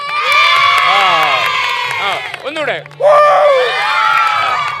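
Children in a school arts festival audience hoot and shout loudly together in long rising and falling whoops, pausing briefly before a second burst, with a voice calling out between.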